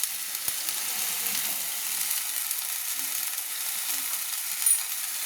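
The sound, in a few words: stirring ghugni with salt sizzling in pan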